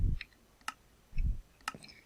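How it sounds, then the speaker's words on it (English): Redstone counting mechanism in the Minecraft video game, sharp separate clicks with low thumps, two pairs spaced about a second apart, close and clear with no talk. "You can hear the clicking,"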